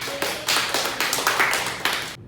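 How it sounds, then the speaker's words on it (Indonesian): A classroom of students claps together in a brief burst of applause, the slaps coming in a quick, fairly regular rhythm at moderate loudness before stopping abruptly. "Jadi tepuk tangan semuanya."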